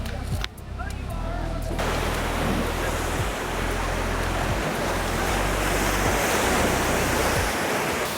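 Rough ocean waves pound a Bali beach in a loud, continuous roar of surf, with gusts of wind buffeting the microphone throughout.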